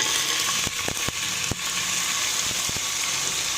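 Ground onion paste sizzling in hot oil with cloves for a Telugu fish curry, a steady dense frying hiss with a few sharp crackles and pops, close and continuous with no voices.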